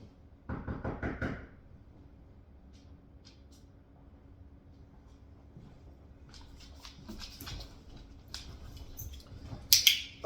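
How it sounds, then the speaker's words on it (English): A quick burst of several knocks on a house door, close and sharp near the start, followed by quieter household rustles and a few faint clicks and bumps, with no speech. "I'm gonna just do a random knock and see what happens"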